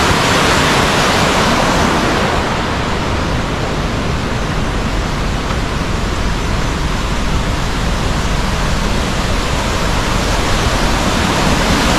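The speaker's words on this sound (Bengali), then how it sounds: "খরস্রোতা নদী ঝর্ণার আকারে নেমে আসছে নিচে।" A fast-flowing forest river cascades down as a waterfall, giving a steady, dense rush of water that stays loud and unbroken throughout.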